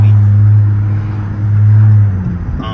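A V6 car revving close by, a loud, steady low engine drone that swells, dips and builds again, with a brief higher whine near the end.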